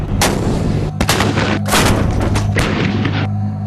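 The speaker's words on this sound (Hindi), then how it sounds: "ये artillery weapon systems indirect firing द्वारा लंबी दूरी तक जमीनी हमला कर सकते हैं।" Indian Army artillery guns fire in a series of heavy booms, roughly four or five blasts spaced about half a second to a second apart, each followed by a rolling echo, loud and close with no talk.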